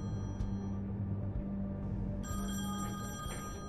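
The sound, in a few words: telephone ringing in The Wolf Among Us video game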